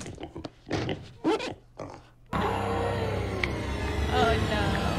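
A cartoon pig squeals and oinks in Gravity Falls, loud and close, after a few short bursts of cartoon voices, then a sustained noisy squealing wash runs to the end.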